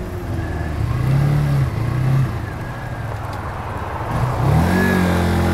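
A Lexmoto Michigan motorcycle pulls out of a road junction, its engine droning steadily near the listener with a couple of rising throttle pulls and gear changes, wind and traffic rumble underneath, no talk.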